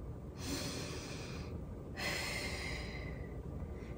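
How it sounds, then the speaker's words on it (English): Slow deep breathing exercise: two long audible breaths drawn and released close to the mic, each a soft airy rush lasting over a second, with a quiet gap between. "Let's breathe."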